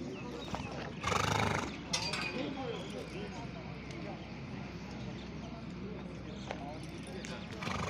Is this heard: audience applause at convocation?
no